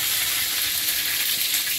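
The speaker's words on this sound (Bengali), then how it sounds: "এদিকে শুকনো লঙ্কা দিয়েছি আর একটু তেল দেবো।" Dried red chillies sizzle in hot oil with a continuous, bright crackling hiss that stays close and steady throughout, with no talking.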